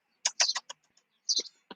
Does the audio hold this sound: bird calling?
yes